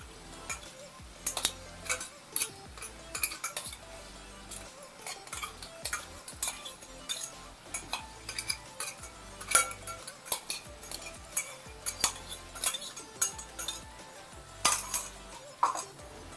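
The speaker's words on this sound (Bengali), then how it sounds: "এখন আমি পেস্ট করা মশলাটা দিয়ে দেব, দিয়ে আবার ভালো করে কষাবো যতক্ষণ না কাঁচা গন্ধটা যায়" A ginger, garlic, tomato and green chilli masala paste is sautéed and stirred in a pan, with a soft sizzle under frequent irregular scrapes and clinks of a spatula against metal, close up.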